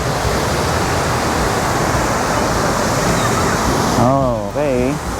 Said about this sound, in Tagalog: Ayan yung fountain.